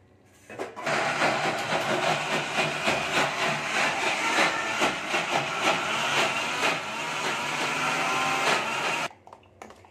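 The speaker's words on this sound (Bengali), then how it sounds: "1 বাটির মতো আমি জল দিয়ে দিচ্ছি" About a bowlful of water poured into hot oil sets off a sudden, loud, crackling sizzle that churns steadily for around eight seconds before cutting off abruptly, with no voices.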